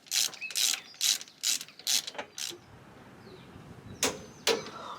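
A torque wrench ratchets in six quick, crisp clicks while a Loctite-treated bolt on a car's driveline is tightened to 100 newton meters, then two more isolated clicks follow after a short pause.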